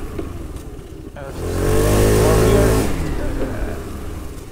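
A Royal Alloy Tigara 300 scooter brakes on its rear brake, with the engine note rising and then falling away over about two seconds as it slows to a gentle stop. Road noise continues throughout.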